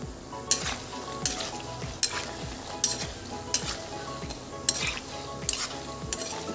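Cashew namkin frying in oil, a soft continuous sizzle punctuated by regular scraping and clinking strokes of a spoon stirring against the pan, steady rhythm, no voices.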